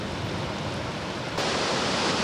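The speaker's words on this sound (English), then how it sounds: "It's a drive-in waterfall, actually more like shooting rapids." Bow Falls in Banff, a river tumbling down a short drop in wide, shooting rapids, gives a steady loud broadband roar that swells louder about halfway through and then cuts off abruptly.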